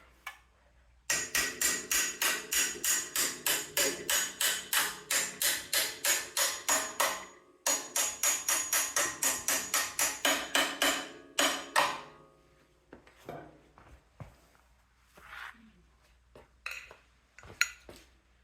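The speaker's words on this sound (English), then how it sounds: "Take your hammer." A hammer taps a pin into place on a Troy-Bilt tiller with a Predator engine, in a fast, steady series of ringing metal strikes, pausing once, then continuing before slowing to a few scattered knocks.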